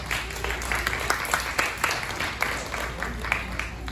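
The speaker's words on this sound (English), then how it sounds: "A big round of applause for the Cratchit family." Audience applause for the Cratchit family puppets at a Christmas Carol puppet show, steady dense clapping with a few sharper peaks, moderately loud and continuous, with faint murmuring underneath.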